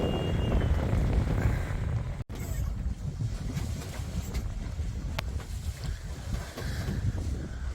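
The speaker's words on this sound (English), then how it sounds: "We are sailing down the Algerian coastline." A sailboat under way in calm seas off the Algerian coastline after leaving Tunisia, with a constant wash of water and wind buffeting the microphone, one sharp dropout partway through, and no voices.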